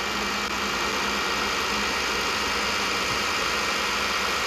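A truck engine in Farming Simulator 20 drones steadily as the vehicle drives, a constant mid-low rumble with no talk over it, even in level from start to finish.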